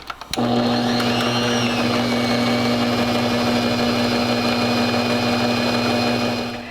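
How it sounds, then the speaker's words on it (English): An electric mixer starts with a click and then whirs steadily and loudly at close range while blending molasses drop cookie ingredients, running alone before winding down at the end. "So now I'm going to go ahead and blend this together."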